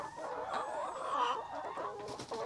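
Rhode Island Red chickens clucking around a nest box, a continuous, close chorus of overlapping clucks and soft murmuring calls, with no voices.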